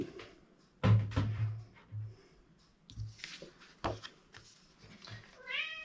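A house cat meows several times at close range indoors during a crafting session, short rising cries spread across the moment with quiet room noise between them and a final drawn-out call at the end.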